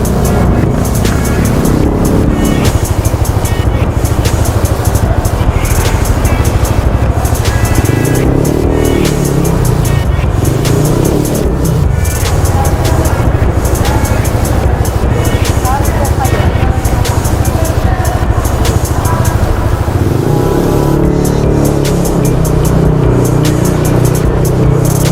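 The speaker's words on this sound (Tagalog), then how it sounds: "Medyo traffic lang." Steady street traffic around a rider on a Yamaha Aerox V2 scooter near Luneta, with a constant broadband engine and road roar at close range throughout and low vehicle rumbles swelling at moments.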